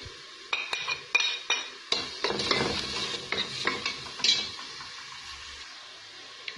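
Garlic and onion frying with chicken in a pan, a steady close sizzle broken by sharp clinks and scrapes of a utensil stirring, with no talking.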